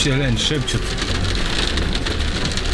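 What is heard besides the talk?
heavy rain downpour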